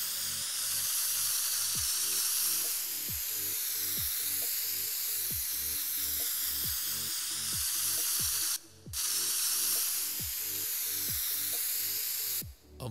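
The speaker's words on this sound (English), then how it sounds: "We got a spray can" A spray can hisses in the video game Teardown, a steady loud aerosol spray running almost continuously, with repeated rattling clicks and two short breaks.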